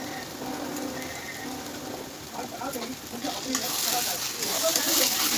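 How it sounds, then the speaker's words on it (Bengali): Spice masala with turmeric powder and salt frying in a pan, a close, continuous sizzle that grows louder toward the end, with light stirring and soft background voices. "মশলাটা ভালো করে কষিয়ে নেব।"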